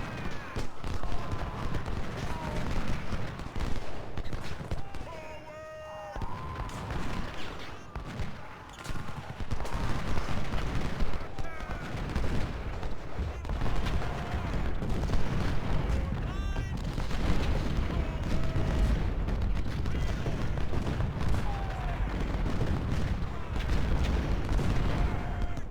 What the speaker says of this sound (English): this James is gonna shoot that gun